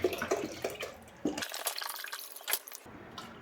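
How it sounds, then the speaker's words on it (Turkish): Milk is poured into a pot of half-cooked rice: a liquid splash and trickle that comes in uneven bursts, with a few louder splashes near the end. "Şimdi şöyle sütünü de ekleyeceğim artık."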